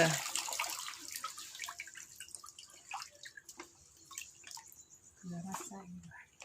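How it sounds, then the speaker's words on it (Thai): Vegetables for pickled pak paen are rinsed in clean water, with close, faint splashing, dripping and sloshing in a basin and a brief clatter near the end. "ล้างน้ำสะอาดหนึ่งถึงสองน้ำเด้อ"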